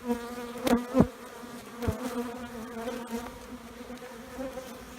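Honey bees buzz on a hive frame during varroa mite sampling, a soft, steady hum with a few louder thumps and bursts of movement near the start.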